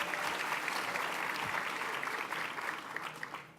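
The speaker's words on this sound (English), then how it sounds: "Let's give him a strong round of applause" An audience at a civic event claps for a guest in one sustained round of applause, even and moderately distant, with no voices over it.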